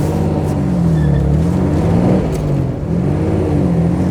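A 1958 Jaguar XK 150 Drop Head Coupé with a 3.8-litre, 220 PS engine pulls steadily with a loud, continuous low drone and rising and falling pitch as it accelerates, with no voices.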